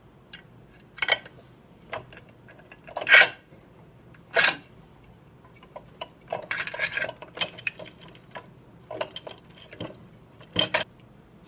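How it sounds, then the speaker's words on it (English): A lathe spindle shaft on a Logan Model 200 lathe slid back into its keyed bull gear and bearing, giving sharp metallic clinks and knocks spaced irregularly over a quiet workshop background. "I'm going to put the shaft back in, being mindful of where the key is on the bowl gear and in the bearing shield"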